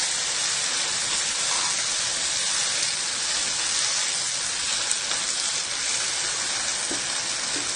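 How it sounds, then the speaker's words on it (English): Potatoes fry in a pan with a soy-sauce tangy seasoning, giving a loud, steady, close sizzle and hiss that runs unbroken throughout with no talking. "Fried potatoes."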